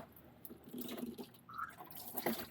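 Hot engine oil draining and splashing during a Porsche 911 (996.2 Targa) oil change, quiet irregular liquid spatters and trickles with brief louder splashes, close by.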